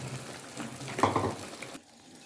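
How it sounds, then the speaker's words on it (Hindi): Ground lentils are stirred into a cooking chicken haleem masala with a soft, wet, mushy churning and sizzle that swells briefly, then cuts off abruptly into near silence. "पहले इनको हम मिक्स कर लेते हैं।"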